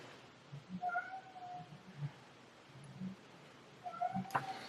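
A cat meows softly a few times at moderate distance, short tonal calls separated by pauses over a quiet background.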